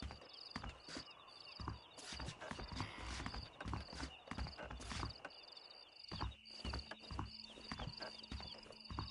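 Horse hooves clip-clop at a steady walking pace in the Red Dead Redemption video game, with several horses moving together against a faint background chirp of crickets.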